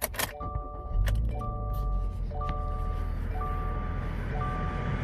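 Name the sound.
2020 Subaru Crosstrek car being started back up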